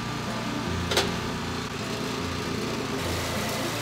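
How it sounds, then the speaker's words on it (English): A rototiller churns through clay soil in a former lawn being turned into a vegetable garden, a steady close motor drone with a brief sharper clatter near the start. "I'll rototill all of this and rake out as much of those roots as possible"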